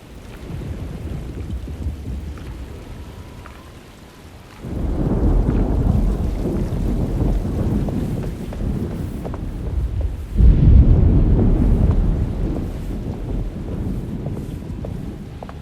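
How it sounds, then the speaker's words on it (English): A thunderstorm in the video game Alone in the Dark: steady rain and wind with two loud, rumbling thunder rolls that swell suddenly and linger, with no speech. "Looks like a storm's coming."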